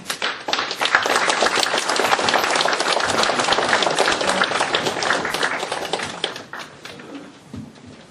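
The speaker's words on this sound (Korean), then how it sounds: "대구 시민 여러분들의 큰 응원의 박수 부탁을 드립니다." An audience at a public humanities lecture forum in Daegu claps steadily and energetically to welcome a professor to the podium, the dense applause holding for several seconds before tapering off into a few scattered claps.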